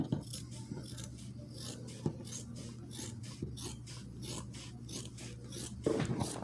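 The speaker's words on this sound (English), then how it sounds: "I'm cutting my desired length." Scissors cut through denim dress fabric to shorten it, making a repeated close rasping crunch of snips in a steady rhythm over a low hum, with no talking.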